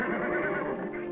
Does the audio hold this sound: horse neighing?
yes